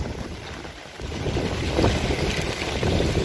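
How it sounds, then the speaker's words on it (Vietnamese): Strong wind gusts over a river during eel fishing, a steady broad rushing roar with buffeting against the microphone that swells louder in the second half, with no talk. "Ui, gió quá."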